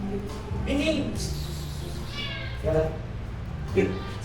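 A cat meows three times, close and fairly loud, in short rising calls spaced a second or two apart, with people talking in the background in a kitchen while pizza is being made.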